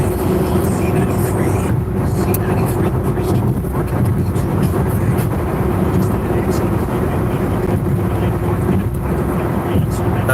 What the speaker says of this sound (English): maybe just hearing the road noise